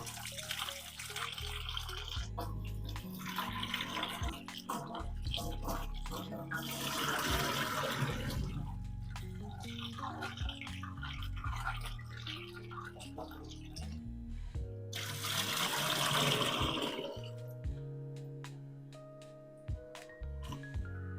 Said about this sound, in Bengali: এবার আমি ধনে পাতাগুলোকে ভালো করে আমি ধুয়ে নেব